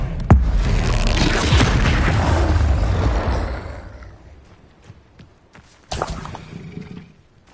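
Spell explosions booming in the video game Hogwarts Legacy: a loud sustained rumbling blast lasts a few seconds and fades, then a second sharp burst hits near the end, heavy low-end impacts with no voice over them.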